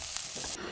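Spam stir-fried in a pan until dry, a brief steady sizzle with faint stirring that quiets sharply near the end.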